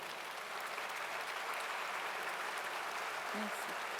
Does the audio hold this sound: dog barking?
no